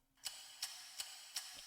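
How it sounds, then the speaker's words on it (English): A clock ticks steadily, four crisp, evenly spaced clicks over a faint background hiss. "This clock sound effect."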